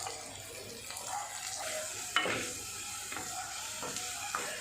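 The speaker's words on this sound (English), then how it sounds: "from this side also take the onions and mix it well" Onions frying in a pan for pasta in tomato sauce are stirred, with a soft continuous sizzle under repeated scraping strokes and one sharper clink of the utensil against the pan.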